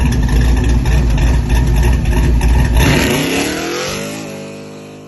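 A Chevy truck with a freshly rebuilt engine revs hard and loud up close, then the roar drops away as the engine winds down and settles toward idle.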